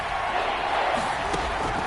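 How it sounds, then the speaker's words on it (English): Stadium crowd in a PS4 football video game roaring steadily ahead of a big third down, a broad, dense wash of cheering that stays at an even level throughout, with a faint knock partway through. "The crowd getting into it as we come up on a big 3rd down."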